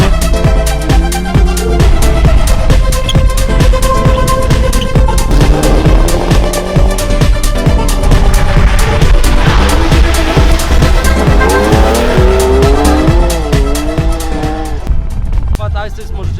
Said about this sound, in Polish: Fat Ice Race możecie zobaczyć na przykład takie samochody jak ten, czyli wierną replikę Porsche 917